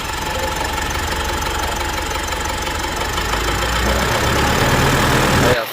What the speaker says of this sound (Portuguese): Tô com o aparelho ali fazendo a aprendizagem dos bicos, por isso que o barulho do motor dela tá diferente.